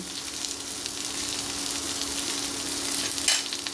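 Mixed vegetables sizzling in a pan with salt just added, stirred by hand: a constant close frying hiss with a steady low hum beneath and a brief scrape of the stirring utensil near the end.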